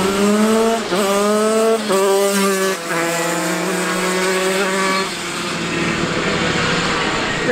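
Shifter go-kart racing on a track, its loud, high-revving engine close by, climbing in pitch and dropping sharply with quick gear changes, then holding a steady scream as it runs on.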